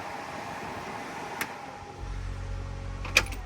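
A steady blower fan hums from the AC system inside a 1965 Ford F100, a quiet continuous whoosh with a low rumble entering partway and a couple of faint clicks.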